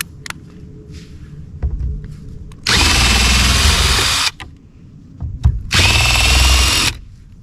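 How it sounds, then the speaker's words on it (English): A power tool backs out the two bolts holding the faceplate on a Minn Kota Edge 45 trolling motor assembly: two loud, sustained whirring bursts of about a second and a half each, separated by quieter handling clatter and thumps. "So we'll remove those two bolts."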